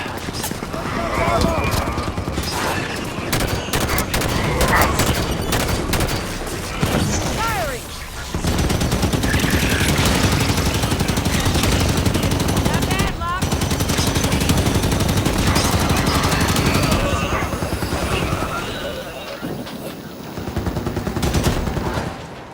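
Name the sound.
turret gunfire in video game Halo 5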